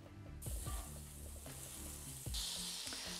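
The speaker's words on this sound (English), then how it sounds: "So I'm gonna start sauteing my onions." Onions sizzling and browning in fat in a pan for Dublin coddle, a steady frying hiss broken by scattered clacks as they are stirred, close and fairly loud, with no talking.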